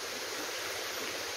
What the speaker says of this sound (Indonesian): ini sungai seperti ini sering banyak ada ular atau biawak ini, Pak Warsen?